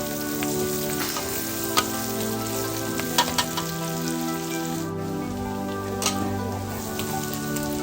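Garlic and pork belly fry in hot oil in a pan with a steady, bubbling sizzle. A few sharp utensil taps and scrapes sound near and fairly loud above it.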